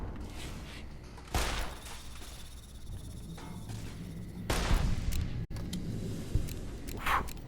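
Gunfire at geckos in Fallout New Vegas, a few loud sharp shots spaced a few seconds apart over a constant game ambience of insect-like chirring.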